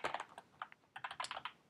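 Rapid, uneven bursts of keystrokes on a computer keyboard as JSON code is typed, close and clear with no talking.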